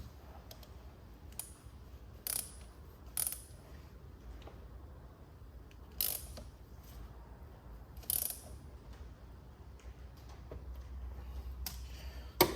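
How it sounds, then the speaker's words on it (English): Someone tightens the locking pin on the fuel pump of a VW Transporter T4 2.5 TDI diesel. Sparse, sharp metallic clicks and ratchet-like ticks come at irregular intervals over a quiet background, with no speech. "I'm going to tighten up the locking pin again just to hold it in place"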